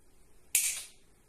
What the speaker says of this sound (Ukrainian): Тепер відкушуємо якийсь конденсатор тупий. Чого він стріляє?